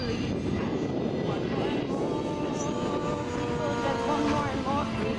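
A Turbo Bushmaster aircraft flies past at an airshow, its engine a steady, broad drone that stays loud throughout, heard under music and voices.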